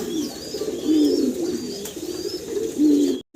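Fancy exhibition pigeons coo in short, soft, throaty bursts close by. Two or three murmuring calls rise and fall over a quiet background.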